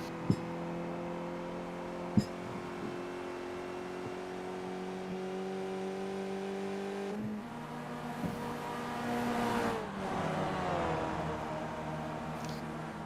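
Formula race cars in the iRacing video game scream around Zandvoort in a close pack through the first corner, a steady high engine whine that later swells and shifts as cars pass, with a few sharp clicks.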